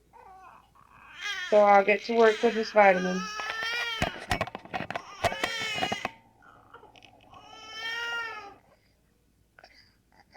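A baby fusses and cries in short, wavering bursts on an early-1960s home audiotape recording, close to the microphone, with an adult speaking over and between the cries.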